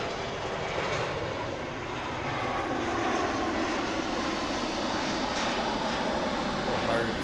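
An airliner in Moana 2 livery at Honolulu airport produces a continuous broad engine roar, fairly loud and steady from start to finish with no pauses.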